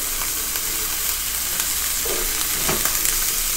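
Chayote with onion, soy sauce and fish sauce cooks in a pan with a loud, even sizzle close up, broken by a few clinks and stirs, with no voices.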